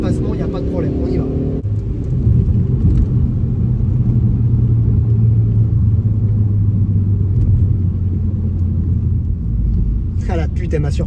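A 2015 Ford Focus ST 250 engine pulls hard while overtaking, a loud, sustained rising drone inside the car with a voice speaking briefly at the start and end.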